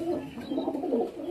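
Punjab Malbai pigeons coo in a steady, throaty warble, several birds overlapping in a continuous low rolling murmur close by, with no voices.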